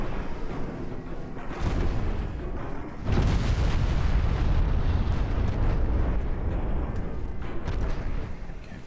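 Heavy 12-inch naval shells firing in a video game, a loud rumbling boom that swells around three seconds and holds as a dense, sustained roar with no talk over it.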